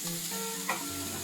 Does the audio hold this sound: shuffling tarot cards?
no